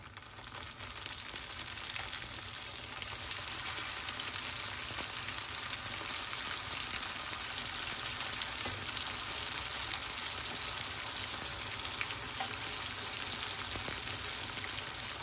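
Turon, Filipino banana rolls, fry in hot oil with a steady, even sizzle and crackle that fills the whole stretch without letup.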